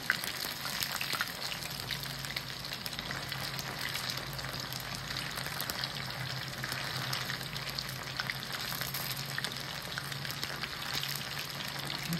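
Chicken 65 deep-frying in hot oil over a high flame, a dense, even crackling sizzle that holds steady and fairly soft for the whole stretch.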